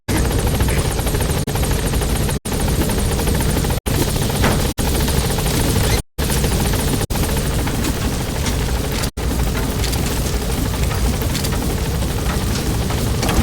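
A helicopter hovers at a landing zone in the Metal Gear Solid V game, a loud, dense, unbroken rotor and engine roar with a few brief dropouts.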